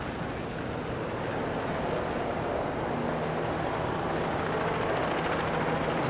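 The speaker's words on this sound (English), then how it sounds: "There's a helicopter overhead." A helicopter passes overhead in New York City, a steady, broad rotor roar that stays constant and fairly loud throughout with no talking.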